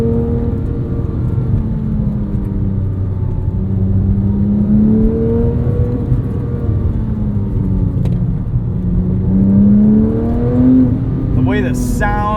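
A 997.1 Porsche 911 GT3 engine drones steadily from inside the car on a canyon road, its pitch rising and falling with throttle across the whole stretch, with a brief higher whine near the end.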